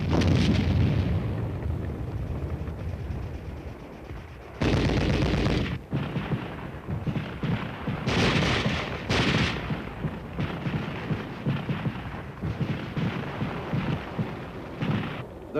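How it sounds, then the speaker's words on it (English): Battlefield combat din: repeated artillery blasts and heavy gunfire bursts, some sudden and close, mixed with rumbling and crackling in an old army training film soundtrack. "the new soldier is exposed to the noise and confusion of combat"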